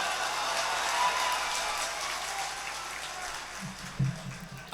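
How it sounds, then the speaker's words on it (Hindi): An audience at an Indian mushaira poetry gathering applauds, a broad, moderately faint wash of clapping that slowly fades, with a few louder bumps near the end. "ताली बजा सकते हैं आप"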